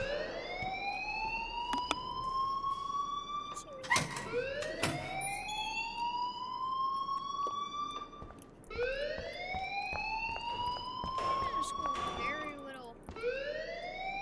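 A looping electronic alarm in the video game Life is Strange, rising whoops repeating every few seconds, loud and steady throughout with brief sharp bangs mixed in and occasional voices underneath.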